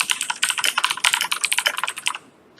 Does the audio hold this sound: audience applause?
no